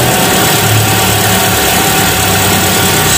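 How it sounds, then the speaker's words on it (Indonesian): A car engine idles steadily after being started, following two days without being warmed up; a constant, close, fairly loud low rumble with even vibration throughout and no talking. "Nah, ini dia suaranya, suara mesinnya ya."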